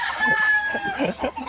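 Chickens in a Philippine rescue setting give a short, close burst of clucking, with a rooster's crow sounding briefly near the start and no voices over it.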